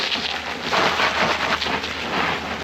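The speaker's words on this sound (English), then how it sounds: "It's a storm." Steady heavy rainfall hisses continuously with a broad wash of noise and a low rumble underneath, no voices, a thunderstorm's downpour close by throughout.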